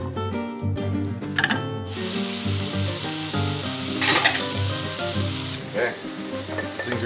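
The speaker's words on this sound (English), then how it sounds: "Sizzling, all the water's cooked off." Loud, steady sizzling of wild mushrooms sautéing in a frying pan at a campsite, with occasional stirring clatter, close and continuous throughout.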